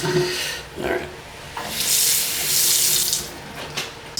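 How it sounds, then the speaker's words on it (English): A working sink tap runs as something is washed off, water hissing steadily with splashing surges that rise and fall, close and fairly loud. "Fortunately, we have a working sink so I can wash it off."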